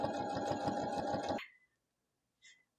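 A sewing machine stitches a fabric table runner in a fast, even, close-up whir for over a second, then stops abruptly, followed by a faint tick.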